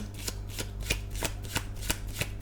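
Tarot cards being shuffled by hand, a steady run of rapid riffling flutters repeating about every third of a second, close and soft.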